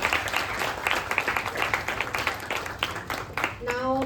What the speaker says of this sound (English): A big round of applause for both Afghan and Kritika.